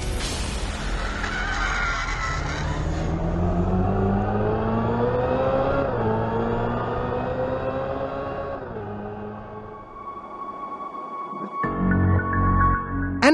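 Synthetic Active Sound Plus driving sound from a 2025 Hyundai IONIQ 5 N electric performance car, an engine-like tone rising and falling through shifts as it accelerates, loud and close without talk.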